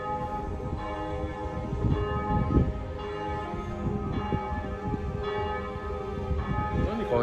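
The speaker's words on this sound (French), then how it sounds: "Concert de cloche" Church bells peal at Orval Abbey in Belgium, several bells sounding together in a steady, overlapping ring that fills the whole stretch at moderate loudness, with no talking.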